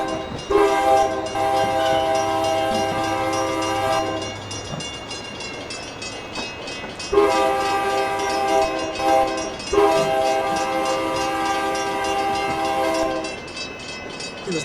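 Train running through a station in the Railworks simulator game, with long sustained horn blasts sounding loud and near over a steady rumble of the moving cars, the horn sounding in three separate stretches.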